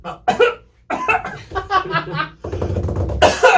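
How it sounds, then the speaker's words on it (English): Several sharp, close coughs in quick bursts separated by short pauses, ending in a rougher, noisier fit of coughing. "every time he swallows, he has to cough"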